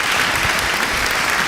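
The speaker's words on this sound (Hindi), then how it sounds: "तालियों के साथ में उनका स्वागत कीजिए" Audience applause welcoming a guest onto a talk-show stage, a steady dense clatter of many hands clapping throughout without pause.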